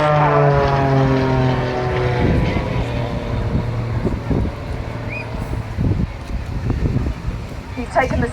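A Pitts Special-based muscle biplane with a six-cylinder 8.5-litre Lycoming 540 engine flies past at an air show in Clacton, its propeller drone shifting in pitch as it passes, loud and steady beneath a commentator's voice.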